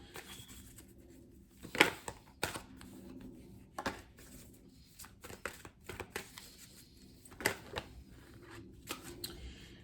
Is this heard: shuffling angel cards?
yes